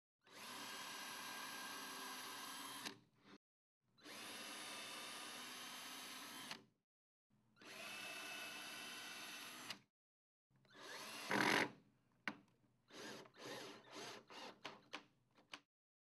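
A power drill drives #8 1-1/4 inch screws into a Murphy bed header on a vertical panel, in three long steady runs of about three seconds each, followed by a sharp burst and a string of short, choppy bursts.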